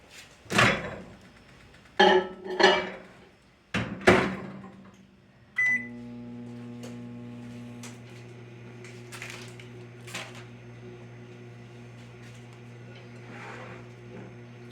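Microwave oven melting a stick of butter: a few sharp knocks and clunks of the door and buttons come first, then a steady electric hum settles in and runs on with faint clicks.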